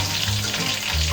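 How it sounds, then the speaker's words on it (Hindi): Chicken pieces frying in a pan for biryani, a steady loud sizzle and crackle of hot oil that fills the short stretch without any talk. "इनको तकरीबन 5 मिनट तक हम इसको फ्राई करेंगे दोनों साइड से"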